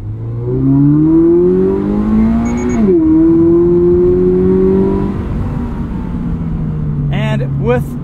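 Modified Toyota GR86 with automatic transmission and FA24 engine, its intake and exhaust droning loud and steady as it climbs through revs under load, dipping briefly at a shift, then holding a lower tone, on a canyon road.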